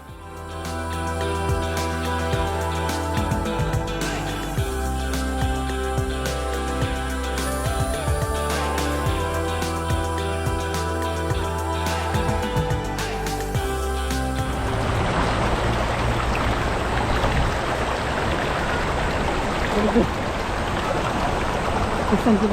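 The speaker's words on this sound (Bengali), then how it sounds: "প্রচুর পরিমাণ পানি অনেক ঝর্ণা।" Mountain waterfall in South Korea swollen by monsoon rain, a loud, continuous roar of rushing water that fills the scene; music plays over the first part before the dense water noise takes over alone.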